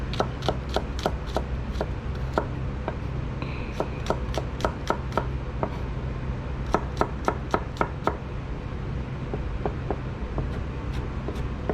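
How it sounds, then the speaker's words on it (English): Garlic being sliced with a knife on a cutting board, a rapid steady series of crisp taps, sometimes in quick bursts, close and clear with no talking. "Slice garlic."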